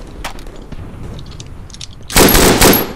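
Gunfire in the World War I shooter Verdun, scattered distant shots followed by a loud, close burst of rapid automatic fire.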